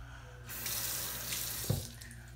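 Tap water runs into a sink to wet a tissue, a quiet, steady splashing stream that starts abruptly and flows for about two seconds before easing off.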